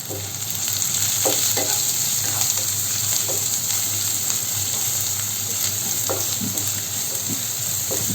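Garlic fries in a pan for Kerala-style garlic pickle while salt is stirred in, giving a steady, moderate sizzle broken by occasional soft scrapes and taps of the spoon.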